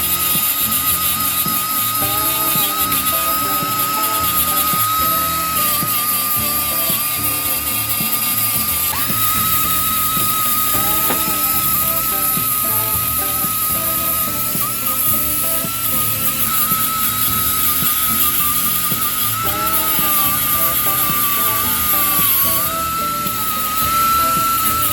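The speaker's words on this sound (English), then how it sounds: "Now to use the little flap disc on the air grinder to clean it up." Air grinder with a flap disc smoothing welds on a broken SuperATV control arm, a loud continuous high-pitched whine with slight pitch dips as the disc bites the metal.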